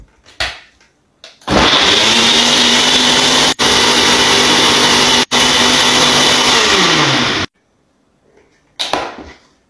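A blender whirs through a kale smoothie with oat milk and chia seeds: a loud, steady motor roar starting abruptly, broken by two brief cuts, then stopping, with rattles of the lid before and after.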